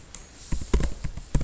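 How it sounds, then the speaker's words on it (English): Keystrokes on a computer keyboard while entering a web address in a browser: a handful of separate, fairly close taps spread unevenly over about a second and a half, with no talking. "Just we have to type the"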